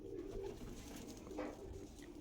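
Andhra Kalsira Lalsira pigeons at a loft cooing in low, soft bursts, a steady murmur of several birds fairly close, with no talking.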